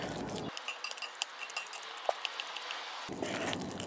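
A utensil stirs mashed potatoes with milk and melted butter in a pot, giving soft scraping and a series of small clinks against the pan, close and alone.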